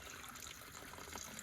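A water can is filled from a flowing water source on the Velliangiri mountain pilgrimage trail. The stream trickles and gurgles steadily at a low, even level.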